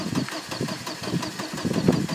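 A nitro RC car engine starts up and settles into a rough, pulsing idle with uneven knocking, close and fairly loud, with a faint voice in the background.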